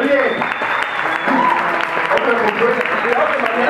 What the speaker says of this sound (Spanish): ahora aplauso para Cosmo Alejo